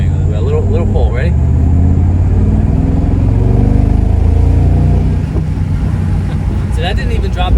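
A Mercedes-AMG SL 55 pulling hard in one gear, a loud, deep engine drone that swells steadily inside the cabin, with a person talking over it.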